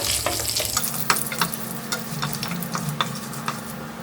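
Whole spices, including cloves, cardamom, kalpasi and cumin, frying in a pan for a pulao; a steady close sizzle with scraping and clicking from stirring, and no talk.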